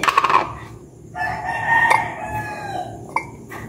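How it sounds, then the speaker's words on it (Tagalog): Roosters crow at dawn, one nearby with a loud, drawn-out cock-a-doodle-doo after some clucking, another crowing in the distance. "Nanggigising na ang mga manok."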